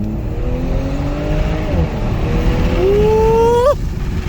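A 2022 Audi S5 Sportback fitted with a 034 intake accelerates hard, its engine note climbing steadily in pitch over wind buffeting before cutting off sharply near the end.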